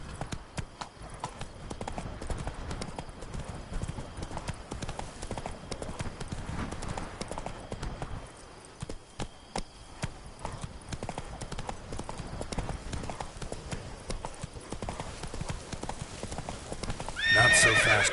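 Roach the horse galloping in The Witcher 3, a fast, continuous rhythm of hoofbeats that runs the whole way, a whinny near the end, and a voice shouting briefly.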